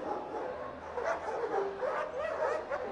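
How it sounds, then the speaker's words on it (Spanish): Several dogs bark and yip in quick, overlapping bursts, heard at moderate distance as if from a floor below inside a club. "¿por qué se escuchan voces de perros?"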